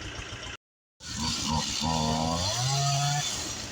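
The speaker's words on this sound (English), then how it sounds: "So I started the chainsaw for him" After a brief silence, a chainsaw catches and revs up, its rough buzzing pitch rising and wavering as it runs steadily.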